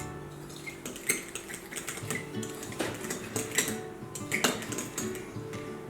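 A spoon clinking and scraping in a bowl while stirring pastry dough with yogurt, soft irregular taps and wet scrapes, close and fairly quiet with no talking.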